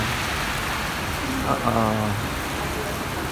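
Heavy rain falls steadily in the UAE, a dense even hiss on surfaces throughout, with a brief faint tonal sound in the middle.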